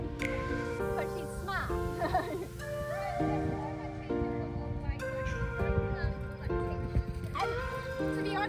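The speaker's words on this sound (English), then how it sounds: "I caught up with my friend Karen and her beautiful grey horse Crash." A grey horse moves with soft hoof clip-clops at a show and lets out whinnies, under steady talk from nearby people.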